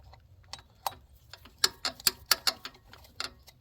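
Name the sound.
loosening a bolt while replacing a Dodge Dakota thermostat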